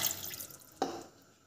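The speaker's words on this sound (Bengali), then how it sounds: "মাখন দিয়ে আমি 250 গ্রামের মতন জল দিচ্ছি" Water is poured into a wok holding butter while making masala pitha, heard as a short close splash with a gurgling pour that gives way to a quieter trickle.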